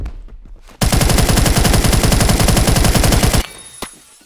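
A Type 20 submachine gun in Phantom Forces fires one long unbroken burst of rapid, evenly spaced loud shots, then stops abruptly, leaving a single trailing shot and faint ambience.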